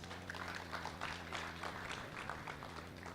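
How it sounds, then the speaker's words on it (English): Applause from an audience honoring a choir named Grand Champion of the 18th Busan Choir Festival and Competition, a steady dense clapping wash that stays fairly even and moderately distant throughout, with no voices over it. "Let us give them another round of applause."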